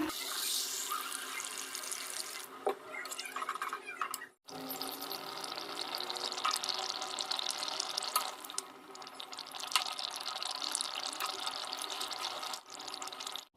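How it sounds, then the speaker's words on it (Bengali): Water poured into a pan of jackfruit curry with fish and potato, a steady broadband splashing and running that fills nearly the whole stretch, with brief pauses near the start and end. "এবার আমি এখানে জল দিয়ে দেবো।"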